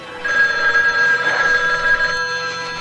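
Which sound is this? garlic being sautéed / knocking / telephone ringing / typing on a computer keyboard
telephone ringing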